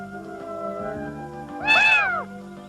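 Cartoon cat from the animated series Hai! Akko Desu gives a single drawn-out, rising and falling meow over quiet background music.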